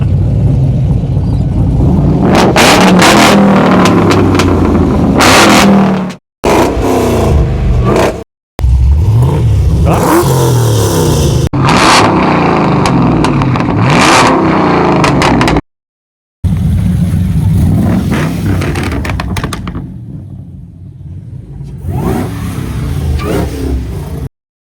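A supercharged car engine revs hard up close in a car park at a Perth car cruise, loud roaring blips and sustained rumbling cut by brief silences, then settling to a lower idle with renewed revs.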